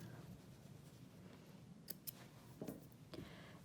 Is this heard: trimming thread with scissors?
yes